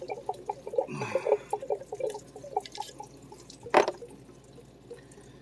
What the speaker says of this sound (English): There goes the rest of our coolant.